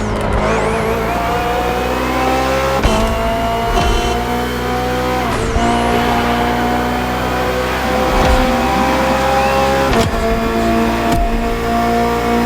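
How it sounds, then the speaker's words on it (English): BMW M Hybrid V8 endurance race car in The Crew Motorfest, a loud continuous engine drone that revs through repeated gear shifts with sharp pitch drops, steady and close throughout. "Finally, the BMW M Hybrid V8. What a beast."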